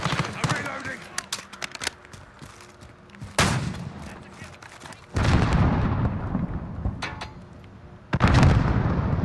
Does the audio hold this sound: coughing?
no